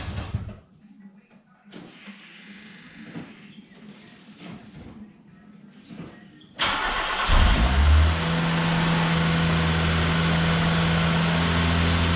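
A car with its exhaust back box newly bolted on cranks and fires up after some quiet handling noises, then settles into a steady, fairly loud idle with a low rumble.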